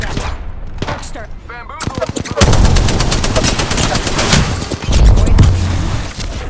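Rapid bursts of automatic gunfire in a shooter video game, loud and close, with a quieter lead-in before a dense, sustained barrage.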